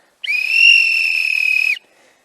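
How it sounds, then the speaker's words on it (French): A sharp, steady whistle blast outdoors in a forest, loud and close, held for about a second and a half before cutting off, with no voices around it. "si tu entends ça, tu entends un sifflet aussi"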